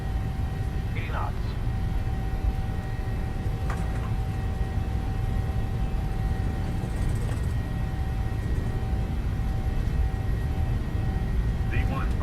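A Boeing 737-700 in a flight simulator rolls down the runway for takeoff, a steady low engine roar sustained throughout with faint higher tones and brief clicks over it.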